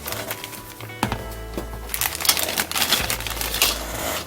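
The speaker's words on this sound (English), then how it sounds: "Go ahead and get this one cut open." Plastic bag holding parts from a 1954 Hudson Hornet 1:25 scale Moebius model car kit is cut open up close. Crisp crinkling and rustling come in scattered bursts, with a few sharper snips and no talking.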